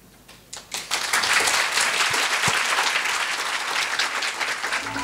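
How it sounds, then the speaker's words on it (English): Steady audience applause swells up after about a second and keeps going, broad and full, as a university crowd welcomes a guest speaker at a 2016 entrepreneurship talk. "without further ado, would like to give a round of applause to our speaker today, Mr. Bill Aulet."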